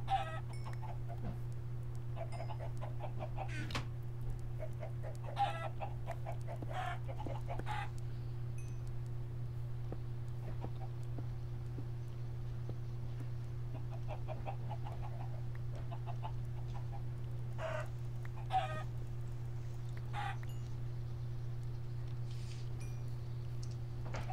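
Chickens in the Minecraft video game cluck in short scattered bursts over a steady electrical hum, with no talk, continuing throughout.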